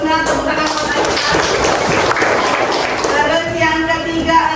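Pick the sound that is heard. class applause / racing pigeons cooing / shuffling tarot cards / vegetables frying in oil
class applause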